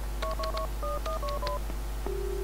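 Touch-tone keypad beeps from the Max Payne 2 video game dial a phone number, about nine quick, evenly spaced tones followed by a single longer ringing tone, all over a low constant hum.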